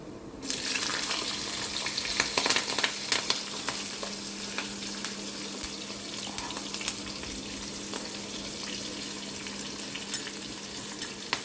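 Chana dal fries in hot oil for a tempering with cumin and turmeric, making a loud, steady, close sizzle and crackle that runs the whole way through with occasional stirring scrapes.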